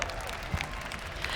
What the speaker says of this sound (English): Let's give a big round of applause. Let's hear you make some noise for these guys.